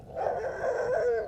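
A dog named Rex barks in a continuous run of rough, close yelping barks lasting just over a second, loud and without talk.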